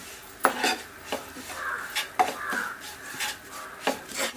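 A spoon stirs asafoetida powder and spices frying in a pan for a Kerala-style bird's eye chili pickle, giving soft repeated scrapes and clinks against the metal with a gentle sizzle beneath, fairly quiet.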